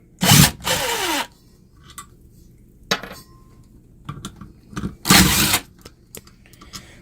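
A 7/16 socket wrench removes a spring-loaded piece from a Midland 464 brake booster on a Travco M375 during a rebuild, giving several loud bursts of metallic ratcheting and clanking separated by quieter handling noises.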